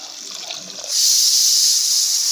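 A loud, steady high-pitched hissing whistle of steam kicks in abruptly after a quieter hiss, like a pressure cooker venting.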